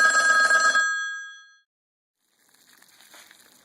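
A telephone bell rings loudly for under a second and fades to silence, followed by a faint, soft rustling.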